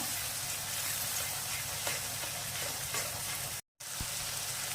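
Cumin seeds crackle in hot oil for dhaba-style whole masoor dal, a steady, even frying hiss with faint pops, briefly cut to silence partway through before the sizzle resumes.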